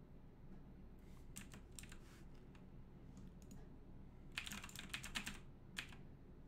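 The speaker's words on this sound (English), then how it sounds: "it's gonna pick up my fucking keyboard" Keys clatter on a computer keyboard in faint, uneven bursts of rapid typing, with a denser flurry of clicks later on and no one talking.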